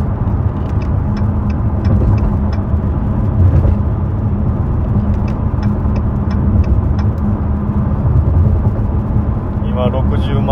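A Dodge Challenger sports car driving at around 100 km/h, heard from inside as a loud, steady engine and road drone that continues throughout, with someone talking over it.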